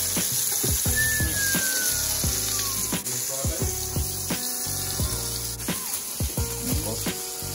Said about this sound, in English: Cast iron frying pan. The best steak. Very hot. Get it hot